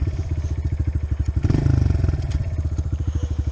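A motorcycle engine idles with a steady, rapid pulsing, then revs up briefly in the middle before settling back to its chugging idle.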